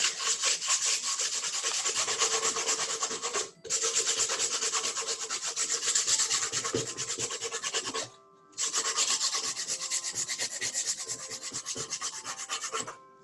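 Sandpaper rubs back and forth across wood in long, scratchy strokes, pausing briefly twice before the rasping resumes, close and steady.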